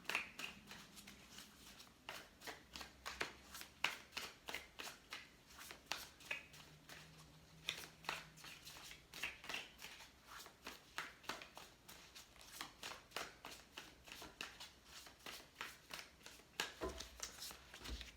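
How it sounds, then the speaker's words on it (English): Tarot cards are shuffled at length in close, quiet, rapid riffling bursts, a long run of crisp flutters and taps with short pauses between. "Needed a long shuffle there."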